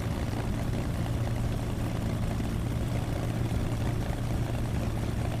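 Steady low drone of a Bf 109 K-4 engine while the plane taxis in DCS World, a constant propeller hum and rumble without pauses or speech.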